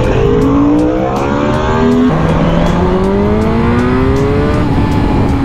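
A Suzuki GSX-R motorcycle roars close and loud as it accelerates hard into a power wheelie, its engine pitch climbing steadily through gear changes on a road.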